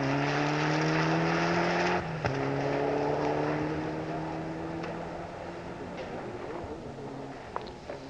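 ProDrive-built rally car on a rally stage at the Pirelli Carlisle City Challenge, its engine loud and sustained with steady harmonic drone, a gear change near two seconds, then easing as it moves away, with commentary talk over it.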